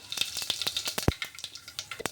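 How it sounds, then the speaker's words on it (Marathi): Cumin seeds crackle in hot oil in a pan, a soft continuous sizzle dotted with rapid small pops and one sharper snap. "जिरं तडतड झालं की त्यामध्ये पूर्ण कांद्याची पेस्ट वगैरे सर्व मसाला घालायचा"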